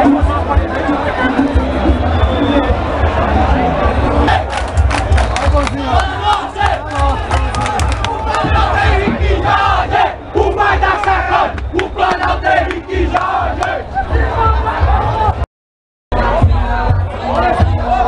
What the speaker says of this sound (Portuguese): Essa é a torcida do Fortaleza que vai chegando com força total